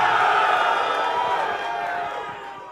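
A crowd at a Tesla robotaxi event cheers and whoops, a dense wash of voices that gradually dies down, with speech mixed into the noise.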